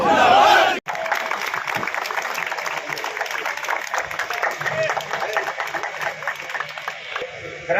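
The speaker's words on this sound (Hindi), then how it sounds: "तालियां बजती हैं" A crowd at a railway union executive committee gathering claps in welcome of an arriving leader, brisk rhythmic clapping mixed with shouted voices after a brief loud burst and a sudden cutoff.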